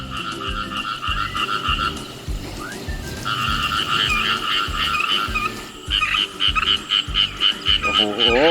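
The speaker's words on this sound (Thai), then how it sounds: "เขียดกับอึง" A loud chorus of frogs and narrow-mouthed toads croaking outdoors in rice fields, with rhythmic low pulsing calls overlapping steady high trilling, continuous and close.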